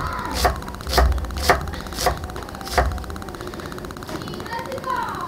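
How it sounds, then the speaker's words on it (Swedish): A knife chops onion on a board in a home kitchen, six or seven sharp, fairly loud knocks at an uneven pace, with a faint background hum and no voices over the strokes. "Så börjar vi med att hacka upp lite lök."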